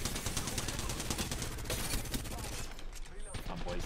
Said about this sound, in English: Oh, what a shotgun shot.